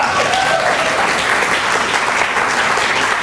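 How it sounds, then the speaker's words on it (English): Dense, steady applause from a crowd at a political rally, filling the whole stretch loud and close with continuous clapping and no break. "That deserves a round of applause."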